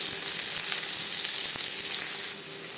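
Chopped onions and green chillies frying in hot refined oil, a bright, dense, continuous sizzle close by that eases slightly near the end.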